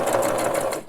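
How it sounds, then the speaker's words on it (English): Sewing machine stitching a three-layer fabric face mask, a steady close whirring run with fast even needle rhythm, loud and continuous for under a second before easing off. "Go back stitch a little bit, and then sew all the way to the end"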